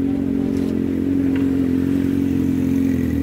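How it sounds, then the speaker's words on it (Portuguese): A Honda motorcycle arrives at an outdoor car and motorbike sale in Brasília, its engine holding a steady, loud, close idle hum with faint clatter throughout and no speech. "Mais uma motinha chegando aí, uma Honda."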